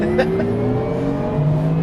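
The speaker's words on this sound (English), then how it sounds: "One of the most exciting things in an electric car is the standing start, right?" An electric car launches hard from a standing start, its drivetrain giving a loud, smooth whine that climbs steadily in pitch for a couple of seconds, with road and tire noise close around it.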